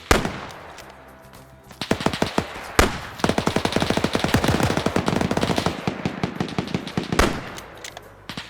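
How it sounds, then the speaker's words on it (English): Rapid submachine-gun bursts from Type 100 SMGs crackle through a WW2 video game battle, with dense repeated volleys and sharp single shots, loud and close, plus occasional heavier bangs from grenades. "You hear the Type 100 SMGs firing off to the side here."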